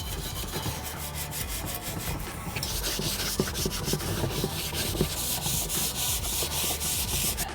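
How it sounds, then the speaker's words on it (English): A wire brush and scouring pad scrub an aluminum dirt bike frame coated in aluminum wheel cleaner, a close, steady, rapid back-and-forth rasping that grows louder and harsher halfway through. "It's a good idea to use the wire brush in more of these stubborn areas."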